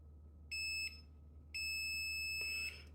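Two clear electronic continuity beeps from an FKM 8016B digital multimeter in continuity mode, each a steady high tone, the first short and the second longer, close and alone over a faint low hum.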